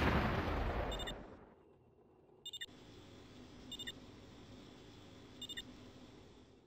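A distant artillery barrage rumbles in the Warzone 2100 game, a heavy fading boom followed by quiet intervals broken by short clustered beeps that repeat several times.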